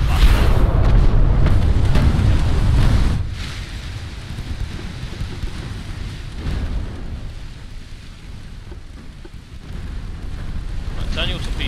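Naval gunfire from escort ships in the Ultimate Admiral Dreadnoughts game: heavy booming blasts rumble loudly over the first three seconds, then settle into a lower continuous roar with further muffled thuds.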